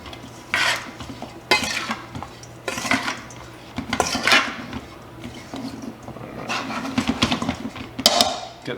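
Steamed broccoli gets tossed in a bowl, producing repeated bursts of clinking and scraping from a utensil against the dish, irregular and close, with a low steady hum underneath and no speech.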